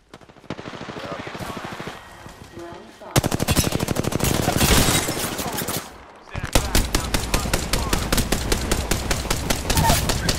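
Automatic weapon fire in the Apex Legends video game, with rapid sustained bursts broken by two short pauses. The shots are loud and close, with a voice talking briefly between bursts.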